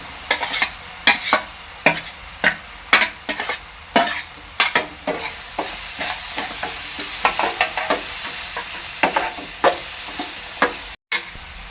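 Capsicum being stirred and fried in a masala mixture for Agri-Koli style chicken masala pav, with repeated sharp scraping strokes of a spoon over a steady close sizzle, no talk.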